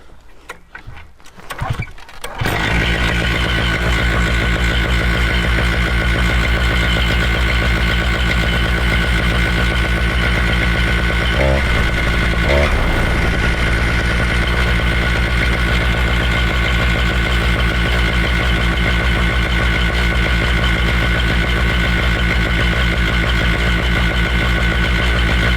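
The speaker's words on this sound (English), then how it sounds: "Now it's still idling a bit too high" A small engine sputters to life, then idles too high, fast and high-pitched with a steady, buzzing drone that continues unchanged for a long stretch, loud and close.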